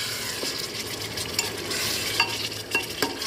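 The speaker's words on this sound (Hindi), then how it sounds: "अब मैं जो मसाले सूखे रखे हैं वो मिला दूँगी इसके अंदर" Dry spices being stirred into mutton qorma frying in a pot, with a steady sizzle under scraping spoon strokes and a few sharp clinks against the metal, close up and with no talking.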